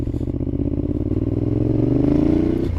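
A 2012 Ducati Diavel 1200 engine runs rough on stale fuel, a close, loud, uneven lumpy idle with clattery pulses that swell slightly toward the end as the revs rise.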